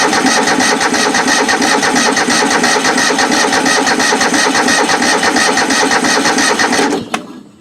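A Husqvarna lawn mower engine cranks loud and close with a rapid, steady churn for about seven seconds, then catches and cuts off abruptly with a single sharp knock.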